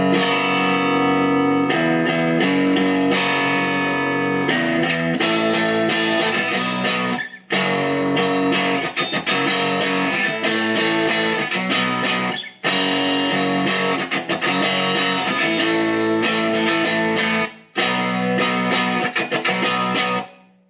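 An electric guitar plays clean through a Fender Deluxe amp with no reverb, ringing chords and phrases in several bursts separated by short breaks, close and full.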